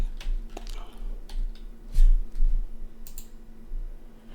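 Light keyboard typing during a computer lab exercise: a handful of soft, irregular key clicks over a faint steady hum, with a few louder taps spaced apart.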